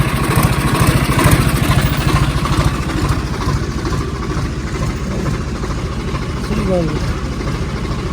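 Tractor engine chugging steadily at close range, a mid-low throbbing drone that runs throughout with people talking over it.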